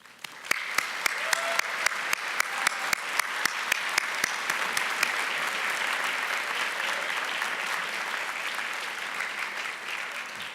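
Graduates and audience at a College of Medicine commencement give sustained, steady applause with a few sharp individual claps standing out early, filling a large hall.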